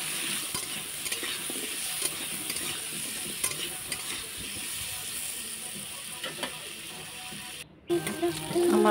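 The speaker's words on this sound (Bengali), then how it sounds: "নুন হলুদ দিয়ে ভাজতে শুরু করি" Small cut potatoes with salt and turmeric fry in oil in a kadai, a continuous close sizzle with frequent stirring scrapes and a brief dropout near the end.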